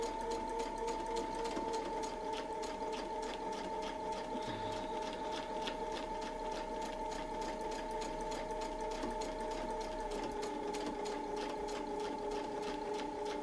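A sewing machine stitches along a Westalee Tecoma quilting template, giving off a steady, even mechanical hum with a fast repetitive needle rhythm that runs unbroken throughout.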